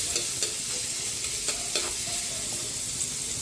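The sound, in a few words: garlic sautéing in a frying pan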